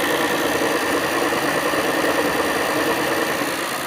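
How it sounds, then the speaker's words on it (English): Adams motor generator running fast at about 1500 RPM, a dense, steady whirring drone with a rough buzzing texture, loud and close throughout with no pauses. "the motor is going fast"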